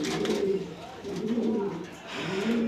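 Pigeons in a pigeon loft give repeated low, throaty coos in rolling phrases, close and fairly clear, one bird calling after another across the short stretch.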